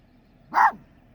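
A single short dog bark rings out, fairly loud and close, against a quiet background.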